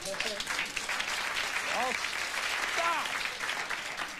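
A TV studio audience on a 1992 late-night talk show applauds steadily and moderately loud, while a voice speaks briefly over the clapping.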